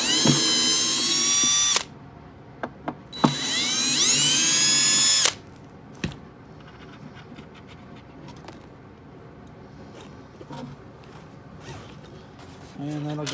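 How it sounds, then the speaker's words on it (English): A power driver whines loudly in two bursts of a few seconds each as it backs out the neck bolts of a guitar during a woodworking job, followed by clicks and light handling noises. "I'll start by unbolting the neck."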